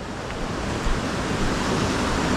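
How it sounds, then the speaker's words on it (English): A small waterfall pours over granite rock at a Vermont creek, making a steady, close, broadband rushing sound of water that continues without a break. "it's a nice little waterfall"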